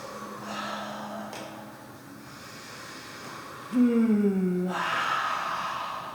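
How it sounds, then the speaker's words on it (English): Deep breathing during a yoga flow class: slow, audible breaths, with a sudden louder, rough inhale-like rush partway through, close and alone. "Breathing."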